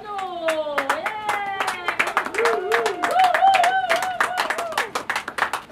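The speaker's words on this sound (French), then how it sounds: "on a une belle main d'applaudissements pour France Bonneau!" Audience applause for France Bonneau at an outdoor Christmas-in-the-park event: scattered, distinct hand claps from a modest crowd, some near and crisp, with voices calling and cheering over them throughout.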